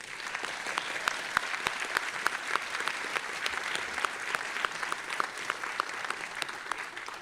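An audience claps steadily at a college nurse pinning ceremony, a dense, even patter of many hands heard from within the room that carries on throughout without letting up.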